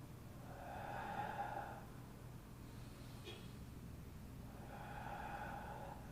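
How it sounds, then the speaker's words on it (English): Slow, deep breaths during a Pilates relaxation rest, two long, soft airy swells a few seconds apart, faint and close with quiet between them. "Breathing in, breathing out. Stay calm. Deep breathing."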